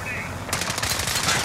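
Rapid automatic gunfire in the Warzone video game breaks out partway through as a dense burst of sharp cracks, following a brief quieter stretch.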